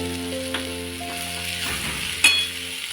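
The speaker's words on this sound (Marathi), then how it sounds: "मसाला परतल्याच्या नंतर आपण त्यामध्ये घालूया मटकी आणि कोथिंबीर आणि परतून घेऊया" Matki sprouts with coriander hit spiced masala in a hot pan, giving a steady soft sizzle with a stirring scrape or two and a brief clink; a low hum sits underneath.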